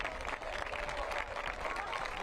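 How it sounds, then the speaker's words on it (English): A crowd at a Northern Colorado Hailstorm FC soccer match applauds in a steady roar of clapping and crowd noise, with a commentator talking over it. "And gets applause from the Northern Colorado crowd."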